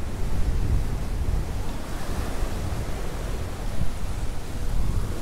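Ocean waves break and wash steadily onto the beach at Praia do Buraco in Balneário Camboriú, a continuous broadband roar with slight surges, mixed with wind buffeting the microphone and no voices.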